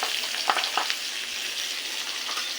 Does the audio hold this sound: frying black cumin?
yes